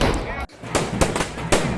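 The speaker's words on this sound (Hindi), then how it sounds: "इसी बीच पटाखों के धमाकों से दहल उठा ओंकारेश्वर चौक।" Firecrackers burst at a festival square during a Holi celebration in Rajasthan, several sharp loud cracks in an irregular sequence, one after a brief silence, over a busy crowd background.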